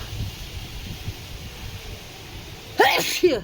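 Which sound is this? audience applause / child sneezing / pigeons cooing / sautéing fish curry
child sneezing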